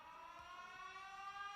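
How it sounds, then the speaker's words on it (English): A steady, faint electronic alarm siren drones from the Factorio video game, a sustained tonal wail holding evenly throughout with no speech over it. "And then I have a horn, alarm, siren thingy."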